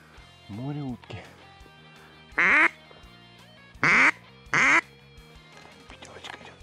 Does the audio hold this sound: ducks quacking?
yes